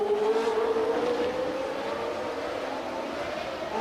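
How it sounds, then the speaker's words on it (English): Formula 1 race cars at the 1981 US Grand Prix pass with a rising, whining engine note that climbs in pitch over a few seconds, heard at moderate distance with faint crowd or commentary-like background. "both the Williams cars have now got ahead of Patrese"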